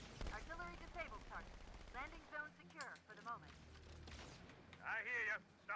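Gunfire from the Halo 2 video game, sharp bursts of shots mixed with in-game voices and effects; firing is moderately loud and intermittent, partly under speech.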